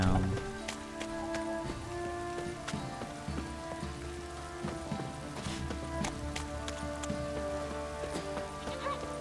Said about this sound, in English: Raining this time.